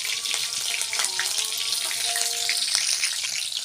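Chopped green chillies fry in a pan of hot oil as the first step of a gravy, a loud steady sizzle and crackle up close, with light scraping or stirring noises and no talk.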